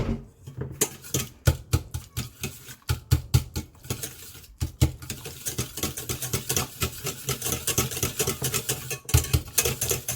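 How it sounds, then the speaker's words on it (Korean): Melted butter being stirred into warm macaron cookie batter: fast, close, rhythmic wet patting and scraping of a utensil against a bowl, continuous and alone with no talking. "분량의 버터를 넣어주셔가지고 또 저어주시면 돼요"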